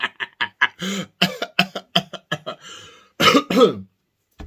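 A rapid series of harsh coughs, about a dozen in quick succession, then a longer raspy cough and throat clearing, close and loud.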